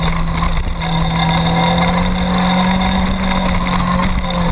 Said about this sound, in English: Ken Pfister with a nice start on his new ZX-10 Kawasaki.